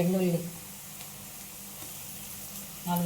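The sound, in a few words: garlic and onions frying in oil for tempering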